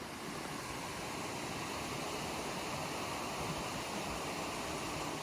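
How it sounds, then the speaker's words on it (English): A brook beside a hiking trail on Mt Chocorua rushes steadily without a break, a broad, even wash of sound close by with no voices. "I can see here the beautiful brook we're following all the way up."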